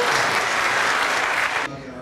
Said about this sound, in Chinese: 掌声再鼓励一下。